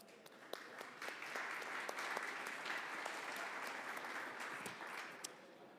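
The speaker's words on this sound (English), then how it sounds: "you could really give them a warm round of applause" Conference audience applauding during a morning session on 5G and broadband, steady clapping throughout at moderate distance with a few sharper individual claps standing out.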